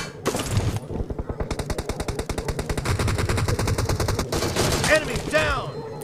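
Rapid automatic gunfire in Battlegrounds Mobile India, a steady stream of loud, evenly spaced shots running for several seconds, followed by a few ricochet-like whines at the end.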